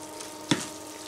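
Chicken and rice frying in a pan, a steady soft sizzle throughout with one brief louder crackle burst near the middle, close and without talk.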